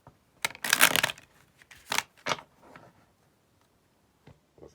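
A deck of tarot cards being shuffled by hand, several crisp riffling bursts close up, then sparse soft taps and quiet.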